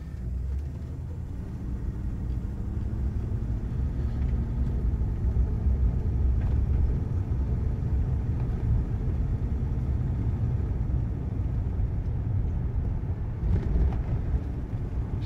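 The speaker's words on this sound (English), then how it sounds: "I'll turn off the air so you can hear the car." A 1969 Cadillac Coupe DeVille is heard from inside the cabin as it drives, a steady low engine and road rumble with faint wind noise, continuous and unchanging throughout.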